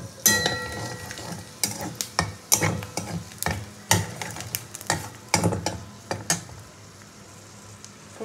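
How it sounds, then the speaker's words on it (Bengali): Whole spices temper in hot oil, crackling and sizzling close up while a utensil scrapes the pan in quick repeated stirs. The sizzle settles to a softer hiss toward the end. "তেলে দিয়ে মিশ্রণটা ভালো করে ভেজে গরম করে নিয়ে ফোড়নটা দিয়ে দিলাম।"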